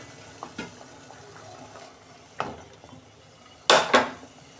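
A metal pan lid handled while stuffed bitter gourd cooks: a few light clinks and taps, then a loud, sharp double clatter of the lid lifting off near the end.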